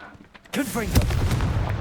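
A Confringo blasting spell goes off in the video game Hogwarts Legacy, a sudden booming explosion after a quiet moment, followed by rumbling crackle with a brief voice mixed in.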